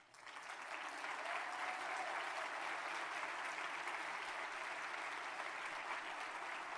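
Sustained applause from a seated audience honouring student government members, rising quickly from a few claps into a broad, even wash of clapping heard at a slight distance and fairly faint.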